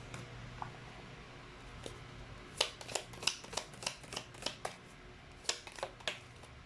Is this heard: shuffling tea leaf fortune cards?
yes